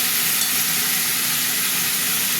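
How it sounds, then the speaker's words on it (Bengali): Tomato added to a pan of vegetables hisses in a dense, even sizzle of hot oil that runs unbroken and close, with soft stirring underneath and no voices. "এবার টমেটোটা দিয়ে দিলাম, কিছুক্ষণ টমেটো দিয়েও তো আবার নাড়বো।"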